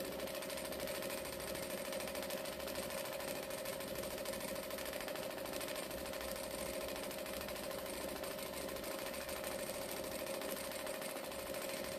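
Jack industrial sewing machine running at about 800 stitches a minute with the pedal flat to the floor, a faint, steady, continuous motor hum and needle buzz with no talk.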